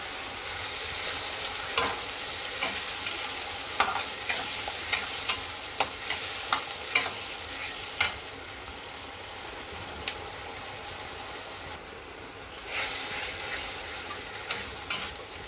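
Tomato, ginger, garlic and green chilli masala sautés in a pan for a bhetki fish kalia, giving a steady sizzle punctuated by regular sharp spatula scrapes and knocks against the pan, close and fairly loud.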